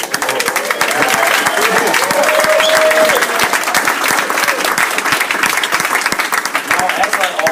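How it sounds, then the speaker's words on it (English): A room full of guests at a reception with Mayor Bloomberg breaks into loud, sustained applause, sharp individual claps packed into a dense, steady roar that carries on for several seconds with faint voices mixed in. "So, Mr. Mayor, a round of applause maybe"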